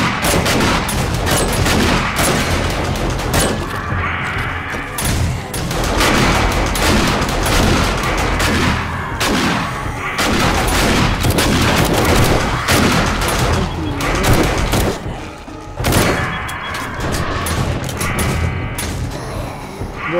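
Rapid, dense bursts of automatic gunfire and booming explosions fill a 7 Days to Die horde-defense fight, loud and nearly continuous with brief lulls, with little speech beneath.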